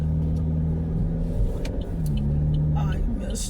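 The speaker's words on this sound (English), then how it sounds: "Look at this old car." An old car drives past outdoors on a morning, giving a steady loud engine rumble that stays close throughout, with some faint background sounds near the end.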